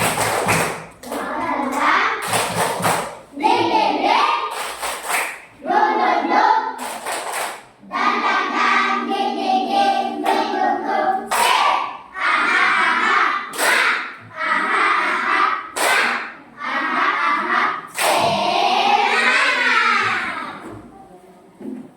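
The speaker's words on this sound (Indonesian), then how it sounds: "Tepuk semangat" A classroom of students does a rhythmic clapping ice-breaker chant, loud bursts of hand claps in repeated patterns broken by short pauses, with young voices calling out between the rounds.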